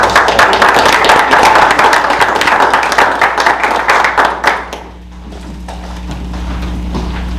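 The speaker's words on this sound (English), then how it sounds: "Let's give them a round of applause." A room at a school board meeting breaks into applause, dense clapping for about four and a half seconds before it tapers off into quiet room hum.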